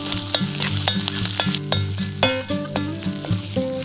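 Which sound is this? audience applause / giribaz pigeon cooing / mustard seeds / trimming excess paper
mustard seeds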